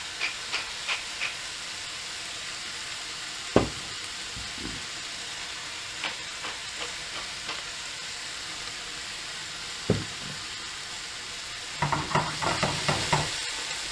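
Minced beef sizzles softly in a pan for a simple chilli, with a low steady frying hiss broken by a few sharp scraping stirs and a louder burst of stirring and sizzle near the end.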